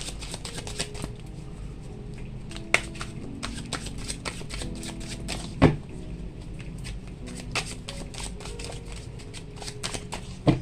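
Tarot cards are shuffled by hand in a steady riffling patter, close and fairly quiet, with occasional sharper taps and knocks of the deck.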